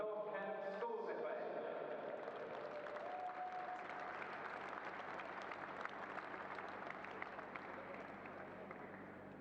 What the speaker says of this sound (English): And now a big round of applause for North Kent Schools ESFA.